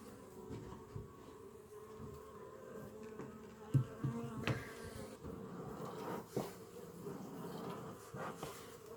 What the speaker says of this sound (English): Just gently knock these bees off.